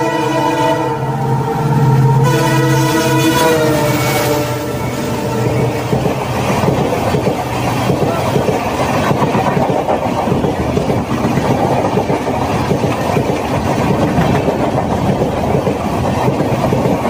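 A passing train sounds its horn loudly with steady harmonic blasts in the first few seconds, then a continuous close rumble and rattle of rail cars rolls on to the end.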